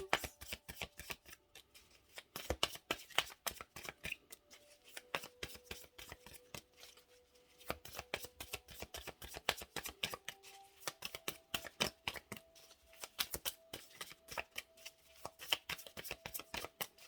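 Tarot cards being shuffled for a Virgo reading, a long run of dense, crisp riffling clicks and flutters with brief pauses, close and fairly quiet, with no voices.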